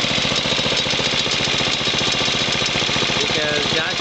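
A riding lawn mower engine runs steadily nearby with a rough, pulsing chug; voices talk over the constant drone.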